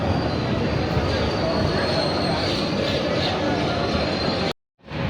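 The Doon Express, a train running from Kolkata to Haridwar, moves off with a steady rolling rumble and faint wheel squeal before an abrupt cut to silence.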